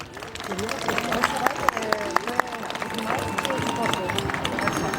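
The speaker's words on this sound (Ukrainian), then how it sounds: "Оплески для вас усіх." Festival audience at the opening of a nativity-play (vertep) festival in the Starosambir community applauds the participants, a dense, sustained clapping with crowd murmur and some voices mixed in.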